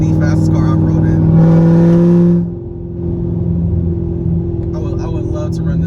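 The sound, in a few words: 900whp cammed Chevrolet Corvette C7 Z06 accelerating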